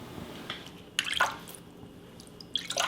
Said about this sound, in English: Sprinkling some water on top of the salt just helps break that down